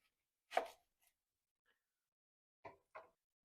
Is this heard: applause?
no